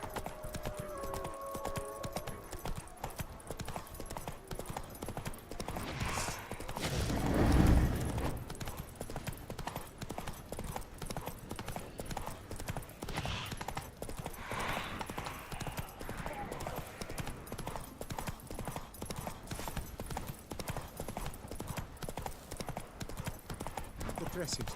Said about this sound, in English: Roach is the dumbest horse I've ever seen.